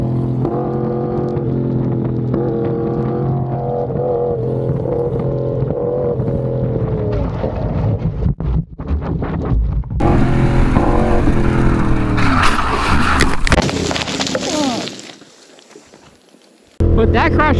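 A motorcycle low-side crash on a canyon road, with a loud engine roaring and revving steadily, then a sudden disruption and scraping burst, wind-heavy noise, a drop to near quiet, and the engine sound returning at the end.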